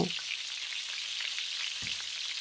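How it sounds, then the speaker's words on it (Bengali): Pieces of pointed gourd (potol) fry in hot oil in a pan, a close, steady sizzle with occasional soft stirring knocks and scrapes, no voices. "এখন পটলগুলোকে একটু হালকা করে ভেজে নেব"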